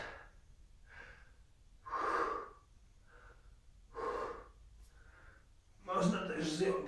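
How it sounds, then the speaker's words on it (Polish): Heavy breathing during stretching after a run: three loud, rough exhales or gasps about two seconds apart, with fainter breaths between them, close to the microphone. "Pamiętajmy o tym, żeby oddychać."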